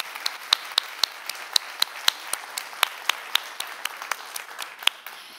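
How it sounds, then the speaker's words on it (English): A conference audience at an Angular tech talk claps, the claps sparse and separate with sharp individual strikes, fairly close. "I want to start by giving a huge round of applause to Tejas."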